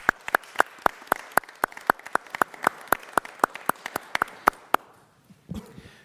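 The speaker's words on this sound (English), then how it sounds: "How about one more round of applause?" Audience applause at a city council meeting, steady sharp claps from a smallish crowd that thin out and stop, followed by a brief quiet rustle.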